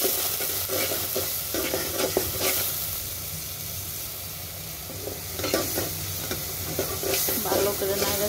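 Chili, turmeric, coriander powder and salt sizzle in a hot pan while a utensil stirs and scrapes them in a steady, repeated rhythm, the frying hiss continuous and close throughout with no one speaking.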